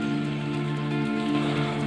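Steady rain patters throughout on a bird-hunting trip outdoors, an even hiss of drops over a faint tonal hum, with no talking.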